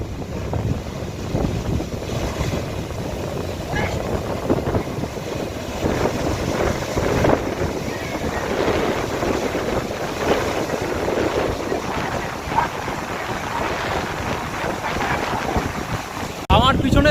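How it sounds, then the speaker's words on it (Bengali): Rough sea waves roar at Oceana beach in Digha, a constant loud rumbling wash that is heavily buffeted by gusty wind noise on the microphone and carries on without pause. "আমার পিছনে সমুদ্রের উত্তাল গর্জন শুনতে পাচ্ছেন।"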